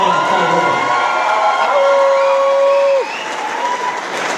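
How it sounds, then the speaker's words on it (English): A boxing crowd at ringside applauds and cheers loudly after a first-round knockout, with whoops and shouts over steady clapping that dips slightly toward the end. "Round of applause for both of these combatants"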